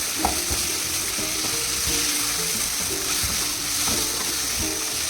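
Tomato masala for chicken biryani sautéing in a pan, a steady close sizzle with repeated scraping and stirring taps throughout.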